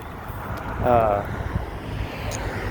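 Strong wind gusts push against a roadside sign, heard as a steady roaring rush with low buffeting rumble across the microphone and a slight swell midway.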